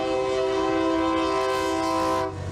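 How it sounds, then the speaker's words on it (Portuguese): A train horn sounds at a railway level crossing, one long steady blast holding loud and continuous for over two seconds before it cuts off, with a low rumble beneath it. "o apito do trem, que já vem de longe, sinalizando que vai fazer este cruzamento"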